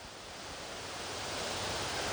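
Steady rushing water from Little Shickshinny Falls in Shickshinny, Pennsylvania: a dense, even broadband roar that swells slightly louder over two seconds, with no voices.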